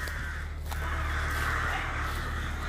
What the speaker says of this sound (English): you can hear we've lots of crows as well joining us